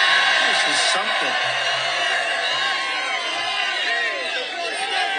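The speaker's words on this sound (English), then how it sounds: "What a crowd." Large crowd cheering at a Trump rally in the Bronx, New York, a loud continuous roar with whoops and shouts from many voices, steady and close throughout.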